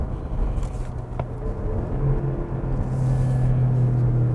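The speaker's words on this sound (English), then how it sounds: "giving you very natural V6 sound to it" A 2019 Porsche Cayenne with a V6 engine drives along, producing a steady, moderately loud low engine hum and road rumble inside the cabin, rising slightly in pitch and strength toward the end.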